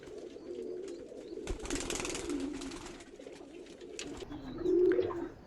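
Rajshahi Giribaj pigeons, all males, coo in soft low repeated calls with a louder swell near the end, amid faint background chatter and rustling.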